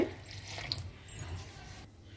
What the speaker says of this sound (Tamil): இதில் ரூம் டெம்பரேச்சர் வாட்டர் முதல்ல விட்டுக்கணும்